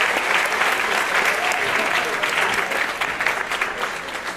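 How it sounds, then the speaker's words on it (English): Comedy club audience applauding servers and bartenders, a dense, steady burst of clapping that fills the room and tapers slightly toward the end, with no talk over it. "Round of applause for your servers and bartenders tonight"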